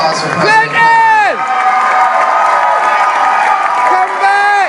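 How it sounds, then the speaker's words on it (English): Crowd cheering and whooping at a performance event honoring President Clinton, loud and close, with shouts and sustained crowd noise throughout. "Round of applause for President Clinton."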